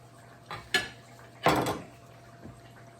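Knife and utensil sounds from cutting into an air-fried ground turkey empanada, with a few short clinks and scrapes spaced apart, close and fairly quiet.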